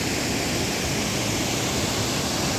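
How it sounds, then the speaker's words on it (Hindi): Dense, even rushing of the Shivling waterfall near Cherrapunji, Meghalaya, a continuous loud water roar that fills the whole stretch without talk. "इसको शिवलिंग वाटरफॉल बोलते हैं यहाँ का लोग।"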